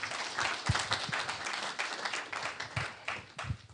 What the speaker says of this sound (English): Once again, another round of applause for Mr.